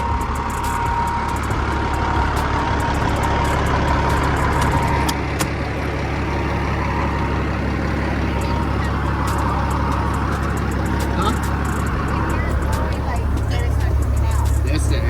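A Peterbilt 379 truck's engine rumbles steadily while driving, a low continuous drone with road noise, occasional clicks and a faint air hiss, under ongoing talk inside the cab.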